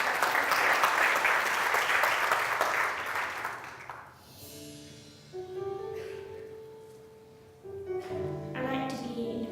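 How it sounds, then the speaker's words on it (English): Audience applause at an inclusive design talk, a loud burst of clapping for about four seconds that then fades away, followed by quieter tonal sounds. "Yeah, round of applause."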